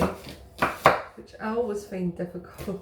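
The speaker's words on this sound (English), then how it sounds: "you want to slice the onions very finely" A knife chops sharply through onions on a board a few times at the start, then a person speaks over lighter, fine slicing sounds.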